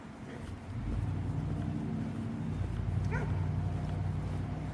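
On the Appalachian Trail in North Carolina, a dog gives a short yip or bark, faint and somewhat distant under a steady rush of outdoor background noise.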